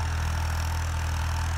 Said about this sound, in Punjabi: ਹੁਣ ਟਰੈਕਟਰ ਤੁਰਦਾ